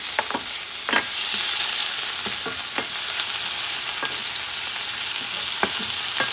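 Ingredients for a Puerto Rican salted cod stew, including small scallop pieces, are stirred in a hot pan: a steady loud sizzle with scattered scraping knocks of the spoon against the pan.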